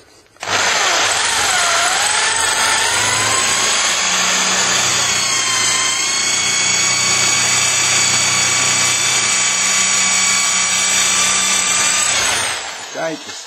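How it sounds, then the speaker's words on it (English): A power drill bores a mortice lock hole into a door, running loud and continuous for about twelve seconds with a steady high-pitched whine, then winding down at the end. "So all the time, drill nice and square and a good firm grip."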